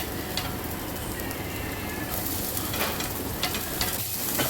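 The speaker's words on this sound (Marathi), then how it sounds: "आता गरम तेल झालं आहे, त्यामध्ये आपल्याला आलं आणि लसूण घालून घ्यायचे." Ginger and garlic fry in hot oil, a steady close crackling sizzle with brief brighter spits and a few light stirring scrapes, no voices.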